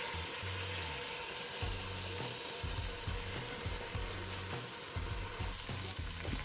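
Garlic and onions sizzle steadily in the bottom of a stock pot, a continuous loud frying hiss with occasional stirring and scraping sounds, no voices.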